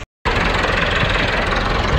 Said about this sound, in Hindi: इनू कड्ढण वास्ते ट्रैक्टर बुलाया